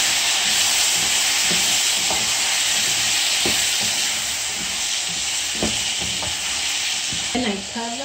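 Tomato fries in a pot for Nduma stew with a loud, continuous close sizzle and hiss, broken by scattered soft scrapes and taps from stirring.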